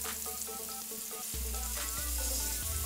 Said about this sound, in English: Pick a piece of fillet up. Listen to that sizzle.